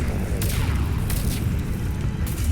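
In Mass Effect 3, biotic Warp powers hit enemies in combat with deep rumbling booms and whooshing bursts over a constant low roar of battle, several impacts in quick succession.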